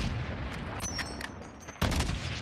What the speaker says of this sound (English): Third partying from a distance here with a sniper rifle.